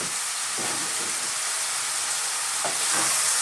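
Small-cut carrot and aubergine fry in a hot pan, a continuous bright sizzle with a few soft stirring bumps, with no talking over it.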